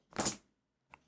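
Four dice rattle in one short clattering burst during a Warhammer 40,000 2nd edition game, followed by a single faint tick as a die settles.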